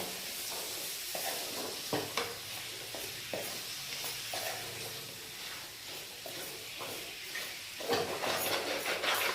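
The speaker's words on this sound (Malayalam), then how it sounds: "നന്നായിട്ടൊന്ന് ഇളക്കി കൊടുക്കാം" Mutton fries with chilli in a pan under a steady sizzle while a utensil stirs it, giving occasional soft scraping knocks over the hiss and a louder burst near the end.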